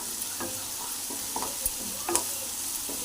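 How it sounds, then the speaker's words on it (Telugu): Onions fry in a pan for green chicken, a constant close sizzle of hot oil broken by a few light clicks and scrapes from stirring. "ఇప్పుడు ఆనియన్ వేసుకుందాం ఫ్రెండ్స్ కొద్దిగా రెడ్ కలర్ వచ్చేదాకా కొద్దిగా వేయించుకుందాం"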